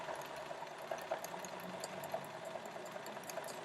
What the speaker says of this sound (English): drop your needle down on that point and sew along the edge